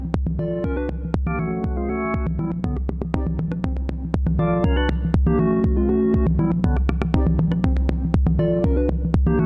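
A drum machine pattern from an Elektron Model:Cycles through a Universal Audio MAX Dual Compressor, with a steady kick whose pulse pumps the surrounding tones, giving a rhythmic ducking effect; no voices.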